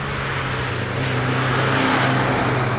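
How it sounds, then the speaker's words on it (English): An older Mazda MX5 on the move gives a steady, loud drone of exhaust and engine noise from inside the car, rising slightly toward the end with no talking. "There's that awesome exhaust noise, engine noise that you can just hear."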